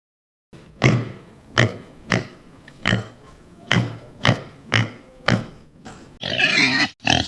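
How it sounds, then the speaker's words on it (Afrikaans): A pig grunts and oinks in a steady, evenly spaced series of about nine snorting bursts, close and loud, ending in a longer squeal-like grunt. "dit is 'n vark"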